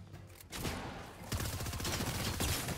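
Rapid bursts of submachine-gun fire in a video game, a new fast-firing SMG, crackle in dense repeated volleys that fill most of the stretch, loud and close.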